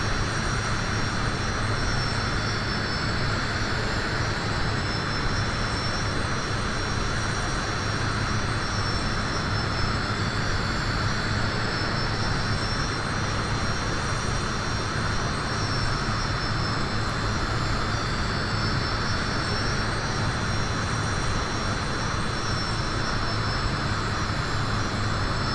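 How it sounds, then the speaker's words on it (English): A fixed-wing airplane comes in to land nearby, a steady droning engine and propeller hum holding constant throughout, moderately loud with no voices. "we're going to have to let this plane here land first."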